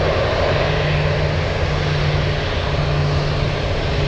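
Cargo airplane landing at Anchorage airport, a Giant flight from Taipei, producing a loud, steady roar of engines that holds without a break throughout, with no voices.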